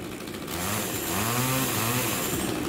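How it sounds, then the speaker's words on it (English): Street performer's chainsaw at an outdoor market revving up after a brief pause, a loud, rough, buzzing engine drone that rises and holds steady close by. "Sir, would you verify for the audience that the chainsaw is real? I'll turn it on."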